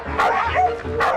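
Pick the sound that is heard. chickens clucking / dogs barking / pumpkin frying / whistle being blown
dogs barking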